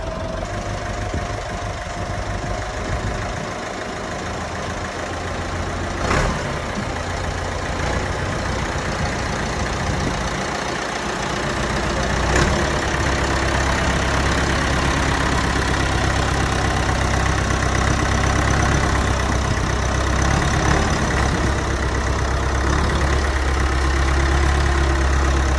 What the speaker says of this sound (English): we're hoping that we're going to be able to pull it with the tractor